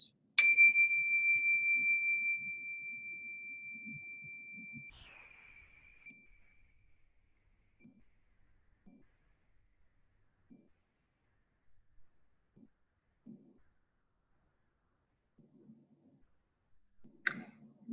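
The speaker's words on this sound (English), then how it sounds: "as you ring the chime, you really want them to focus in on that sound of the chime" A single chime rung once rings out with a clear, bright tone that slowly fades into silence over several seconds, followed by faint scattered clicks and rustles in a quiet room.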